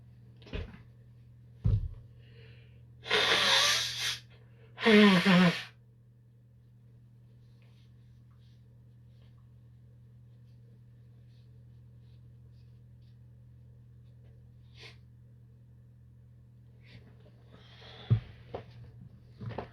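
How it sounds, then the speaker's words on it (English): Two loud, wet blasts of a nose being blown close by, with a few small knocks and rustles before and after over a low hum. "I'm going to blow my nose."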